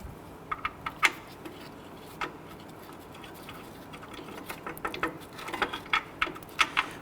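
Bolts being threaded in by hand on the rear brakes of a 2006-2010 Hummer H3, heard as light ratcheting clicks and metallic ticks, sparse at first and then quicker bursts near the end, close and fairly quiet.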